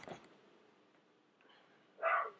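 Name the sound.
dog barking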